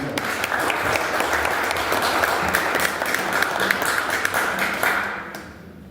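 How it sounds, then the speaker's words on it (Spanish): An audience claps steadily for several seconds, a dense wash of hands that fades out near the end. "Así que pido un aplauso para Juan Carlos."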